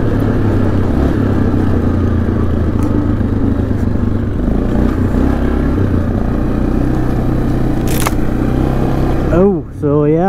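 A 2006 Yamaha Kodiak 450 ATV engine drones steadily while the machine is driven on a trail at about 30, a loud close rumble with clattering, a voice talking over it, and a brief dip at the end.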